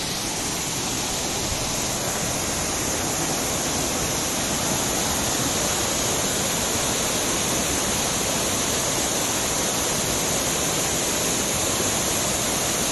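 The San Andrés waterfall roars as a dense, steady rush of falling water, loud and constant with no break and no voices.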